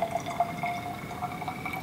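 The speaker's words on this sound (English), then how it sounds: "we'll try to get all of the water out of the beaker to reduce our error" Water poured from a lab beaker into a graduated cylinder, a faint, steady trickle with soft drips lasting the whole stretch, no voices.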